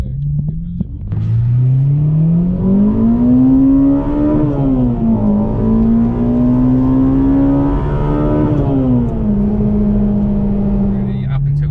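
A Honda Integra DC5 Type R engine is revved steadily up and down. The tone is loud and close, rising and falling in smooth sweeps, and a voice can be heard faintly beneath it.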